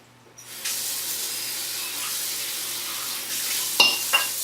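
Water pouring and splashing steadily as it drains off shirataki noodles, a continuous hissing rush with a couple of brief clatters near the end.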